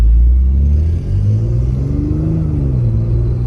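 Audi S5 B8.5 with a stage 2+ tune accelerating hard, heard from inside the car, a loud deep engine drone rising in pitch through the revs, dipping briefly at a paddle-shift gear change.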